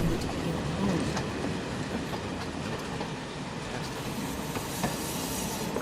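A passenger train in the Final Fantasy VII Remake video game rolls along with a steady loud rumble and hiss, faint rhythmic clicks of the wheels running under it throughout.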